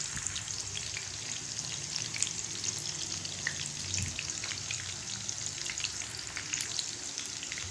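Gola kababs frying in a pan over medium-low flame, a soft, steady crackling sizzle with fine pops throughout, fairly quiet and close.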